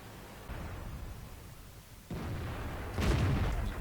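Tank in World of Tanks taking gunfire hits that fail to penetrate, heard as muffled booming bursts over steady battle noise, with a louder, sharper impact near the end.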